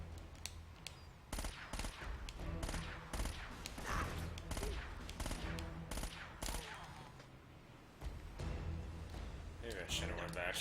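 Enemy gunfire in Uncharted: Drake's Fortune, rapid bursts of shots cracking in quick succession for most of the stretch, with a short lull near the end, under a player talking.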